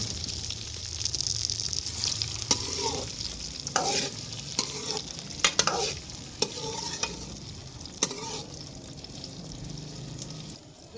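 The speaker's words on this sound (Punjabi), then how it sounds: "ਇਹ ਮਸਾਲਾ ਘਿਓ ਗਰਮ ਹੋ ਗਿਆ ਵਾ ਤੇ ਇਹਦੇ ਵਿੱਚ ਪਹਿਲੇ ਭਿੰਡੀ ਫਰਾਈ ਕਰਾਂਗੀ।" Okra frying in hot spiced ghee, a steady close sizzle overlaid with repeated scraping stirs and sharp clacks of a utensil against the pan at an uneven rhythm.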